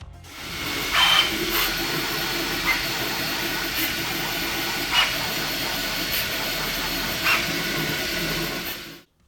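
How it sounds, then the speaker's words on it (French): A Creality Ender 3 V3 Plus 3D printer running at high speed makes a steady, loud whirring hiss with faint periodic ticks. It is heard close, alone, and without talking. "Ah, j'ai aussi testé le bruit qui fait la machine."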